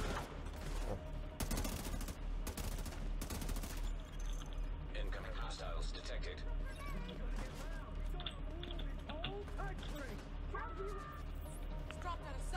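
A gun turret fires rapid bursts in The Division 2, loud and dense at first, then continuing as scattered shots and game effects under a constant layer of battle noise and voices.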